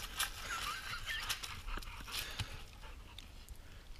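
A dog panting hard after a climb, quick rhythmic breaths close up with a few faint whimpers, alone without talk.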